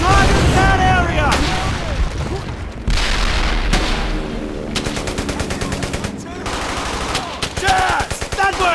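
Dense war video game combat, rapid machine gun bursts and heavy booming artillery blasts, loud and continuous, with shouted voices and tonal effects mixed in.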